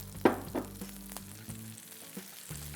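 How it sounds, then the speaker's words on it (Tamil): Drumstick leaves with onion, mustard seeds and green chilli are stirred in a pan, a soft sizzle under a few scraping spoon strokes and light knocks, fairly quiet and close. "இந்த முருங்கைக்கீரை எல்லாம் வெங்காயம், அந்த கடுகு, அதுக்கப்புறமா அந்த பச்சை மிளகா எல்லாம் மிக்ஸ் ஆகிற மாதிரி இதை பொறுமையாக இதை மாதிரி கலக்கி விடுங்க"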